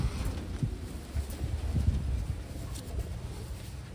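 Checkered Wantai pigeons coo softly while being handled, low murmuring calls repeating close by amid rustling and handling noise.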